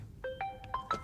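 A mobile phone rings during a lecture, a quick run of four or five bright electronic tones rising and falling, faint and close against a quiet room.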